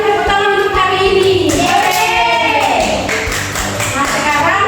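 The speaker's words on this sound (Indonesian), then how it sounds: "semuanya tepuk tangan untuk hari ini" A class of pupils clapping hands together during a micro-teaching lesson, a steady patter of claps mixed with children's voices calling out over the applause.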